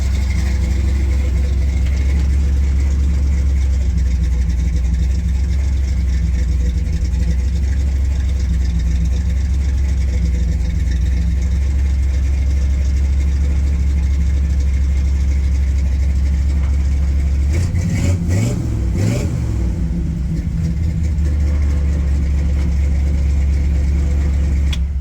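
A car engine runs steadily and close by while the power steering is tested. There is a loud, constant low rumble throughout, with a brief rougher surge and some squeal-like strain near the end.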